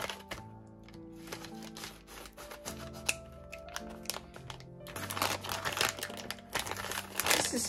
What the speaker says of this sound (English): Let's use the scissors here again.